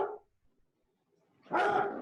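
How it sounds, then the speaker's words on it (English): A pet dog barks during an online local planning panel meeting: one short bark at the start, then a brief silence before a louder, sustained bark or yelp near the microphone. "Oh, sorry about my dog."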